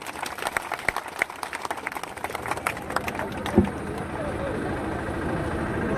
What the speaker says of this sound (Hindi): इनके लिए जोर से ताली बजाएंगे